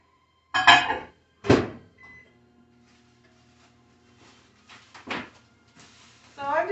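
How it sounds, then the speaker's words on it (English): A microwave oven heats tostada fillings, with clunks of the door and handling at the start, a low steady hum running for a couple of seconds, then more clatter and a short beeping tone at the end. "I'm doing a 30-second quick heat in the microwave"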